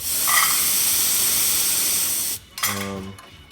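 Steam wand on a Zacconi espresso machine opened to purge, a loud, steady close hiss running for over two seconds before cutting off, followed by a brief sputtering burst.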